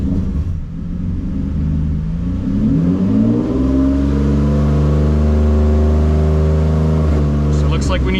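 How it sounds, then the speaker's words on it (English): A single-turbo Nissan 350Z with the DE engine revs up from a steady idle, pitch climbing smoothly into a loud, sustained higher-rpm drone with harmonic rumble, then holds near and strong. "See what happens when we rev a bit."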